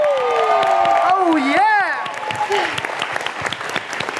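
Crowd applause and cheering for contestants at a dance competition grand final, loud and sustained, with a host's voice talking over the opening and whoops scattered through the clapping.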